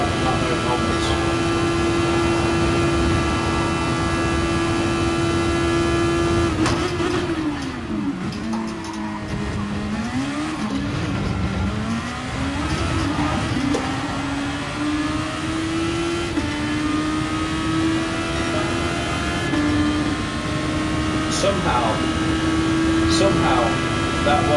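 An open-wheeler race car engine in GT Sport whines steadily at high revs, dips and climbs through braking and gear changes, then holds a steady drone, loud and continuous under brief talk.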